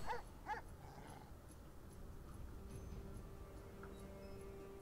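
Dog in the Divinity: Original Sin 2 video game, giving a couple of quick yips or barks at the start, followed by a quiet game ambience with faint ticking.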